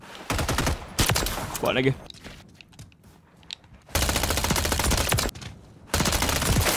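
Rapid automatic gunfire in the video game Call of Duty MW3, loud sustained bursts broken by quieter gaps, with someone speaking briefly between volleys.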